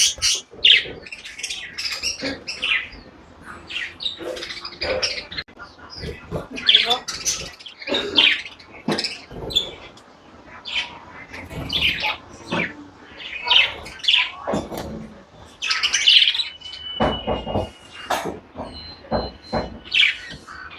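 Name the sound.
birds chirping and squawking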